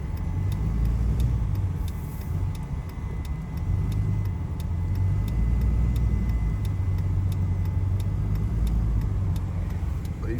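A CASE 9240 combine harvester drives along a narrow road, its engine a steady low rumble heard from inside a following vehicle, continuous and moderately loud with faint ticking.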